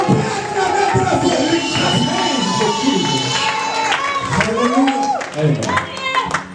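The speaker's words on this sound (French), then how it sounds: "Est-ce qu'on peut acclamer très fort?" A church congregation at a revival service claps and cheers loudly and steadily, a dense wash of hands and voices with musical tones running underneath throughout.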